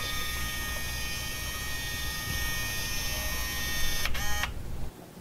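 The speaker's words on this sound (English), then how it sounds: "It's a small battery-powered motor that snaps onto the blind tilt rod of any home blinds." Small battery-powered motor clipped onto the tilt rod of home blinds, giving a steady mechanical whir that runs for several seconds, then a brief higher whine before it cuts off.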